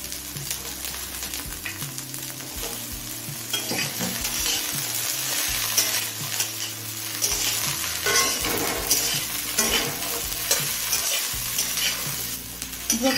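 Broccoli and capsicum fry and sizzle in a pan for navaratna polao while a spatula stirs them steadily, the hiss loud and close over soft background music.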